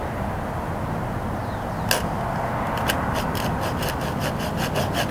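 Knife cutting a notch into a redwood fireboard for a bow drill, a series of short, crisp scraping strokes in a quickening rhythm over a steady background hiss.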